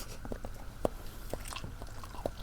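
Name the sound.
eating fish curry with potato and spinach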